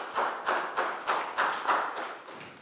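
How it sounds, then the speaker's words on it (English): A small classroom group claps for a student in a Year 3 English lesson, with about eight separate claps or slaps in an uneven rhythm, close and fairly loud, each one short and sharp. "Big round of applause for Bangpon."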